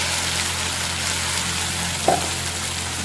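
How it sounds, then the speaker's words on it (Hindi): Tomato paste cooking with fried spices in a pan, giving a steady, close sizzle throughout with one brief spatter or stir sound partway through. "अब फटाफट से हम इसमें अपना टमाटर वाला पेस्ट डाल देंगे।"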